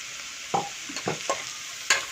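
Vegetables and coconut frying in a pot for a vegan one-pot Brussels sprouts and black chana pulao, with a few distinct stirring scrapes and soft sizzle bursts over a faint steady background.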